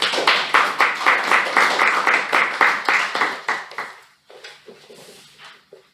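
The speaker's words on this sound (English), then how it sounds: "Toastmaster Abhishek, with a huge round of applause" A small group at a Toastmasters club meeting clapping steadily, loud and close, then thinning out to a few scattered claps before stopping.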